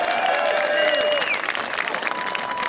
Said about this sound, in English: Give yourselves one massive cheer.